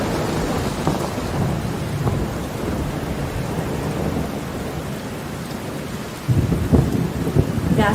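Heavy rain pours steadily with deep rolling thunder rumbling underneath, swelling louder near the end.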